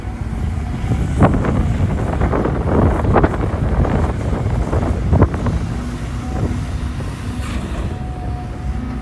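Wind buffets an outdoor microphone at an excavator and dump truck earthworks site with sandy soil, a loud continuous low rumble with gusty bursts throughout and no talk.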